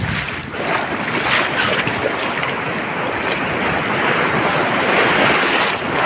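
Sea surf at Morong beach, a continuous loud roar of breaking waves mixed with heavy wind buffeting against the microphone, with no talking.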